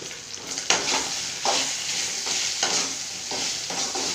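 Spices and chopped ingredients fry in a hot pan with a steady crackling sizzle, broken by repeated scraping strokes of a spoon stirring them, close and clear with no talking.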